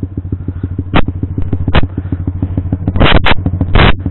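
Honda CBR150R facelift motorcycle fitted with a CLD C7 aftermarket exhaust, riding with a steady rapid engine pulse and several louder bursts of revving or clatter near the end.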